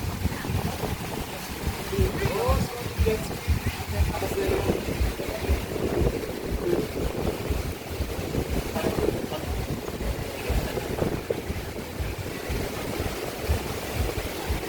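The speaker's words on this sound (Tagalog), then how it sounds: "Lakas ng hangin, no?" Strong wind buffets the microphone in continuous gusty rumbles on Boracay, with a faint wash like water in the background.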